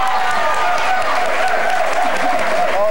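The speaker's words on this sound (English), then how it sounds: "Give Grena a big round of applause." Studio audience on a 1990 Illinois Lottery game show, Fortune Hunt, applauding a contestant: loud, sustained clapping from a crowd, with a tonal musical cue and faint talk mixed in beneath it.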